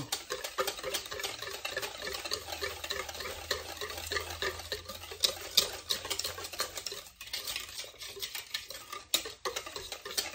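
Steady, rapid scraping and clinking of a utensil against a bowl while stirring banana pudding mixture to work out the lumps, continuous and close, fairly soft, with no talking.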